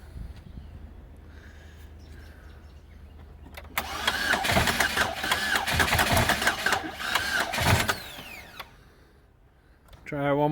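A car with a blown motor cranks over for several seconds without catching, a rough churning burst that then dies away into near quiet.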